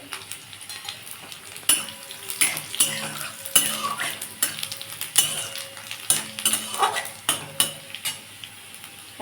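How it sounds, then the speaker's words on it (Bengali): Onion frying with nigella seeds in a pan, a steady sizzle broken by repeated scraping and clinking of a utensil stirring against the metal, close up. "পেঁয়াজ এটা একটু ভালো করে ভেজে নেবো"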